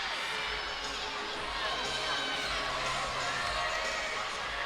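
Record-setting LSU gymnastics crowd roars inside the arena, a dense sustained wave of cheering, whoops and high-pitched shouts that holds steady throughout with no letup.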